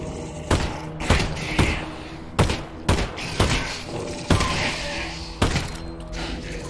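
Explosions in Half-Life: Alyx, a string of about eight sharp, heavy blasts and thuds spaced roughly a second apart, loud and near, each trailing off into a short rumble.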